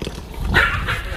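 A dog gives a short bark with a yipping, slightly whimpering edge, heard close over a low background rumble.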